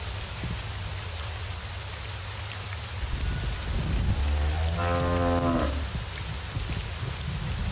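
A cow lets out one long, loud moo on a farm in the video game Postal 2, heard over a steady wash of rain.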